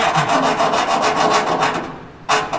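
A hand deburring tool scrapes in rapid rhythmic strokes around a freshly drilled hole in the metal of a 45-year-old John Deere combine, close and fairly loud, then pauses before one last scrape.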